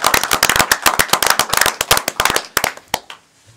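Applause for teachers at a school committee meeting, a small group clapping in sharp, close, irregular claps that thin out and stop near the end.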